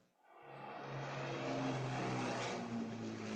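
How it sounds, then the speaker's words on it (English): A Lowrey Marquee organ plays an airplane sound effect, an engine drone that rises from quiet into a sustained, steady roar with a low humming tone underneath, heard alone. "New sound effects. The newest plane ever."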